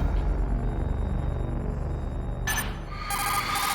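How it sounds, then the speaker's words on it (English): Incoming codec call ringing in the Metal Gear Solid video game: a bright, electronic, repeating trill that cuts in and pulses in short bursts over a low, droning ambient game background, with no speech. "That's pretty risky taking a phone call Snake, right there."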